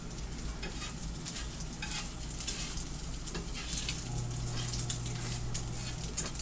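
An egg foo young patty fries in oil in a pan, giving a steady close crackling sizzle with scattered popping spatters over a low hum, continuous throughout with no talking.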